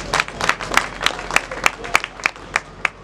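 A crowd at a Congolese political gathering claps in a steady, rhythmic beat, roughly ten sharp claps spaced evenly and fairly close, with a faint murmur underneath.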